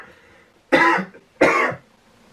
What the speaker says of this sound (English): What if I just like kept coughing and I couldn't catch a breath?